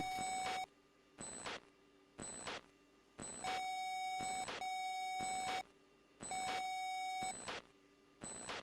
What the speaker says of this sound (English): Data link's beeping, letting me know it's all linked.